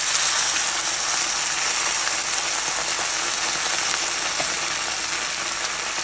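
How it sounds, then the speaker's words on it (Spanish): Tomato, onion and garlic fry in a pan where chile was just browned, giving a steady, dense sizzle with soft crackles throughout and no talking. "voy a dorar el jitomate y la cebolla y los ajos"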